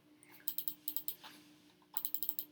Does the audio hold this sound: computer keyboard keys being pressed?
yes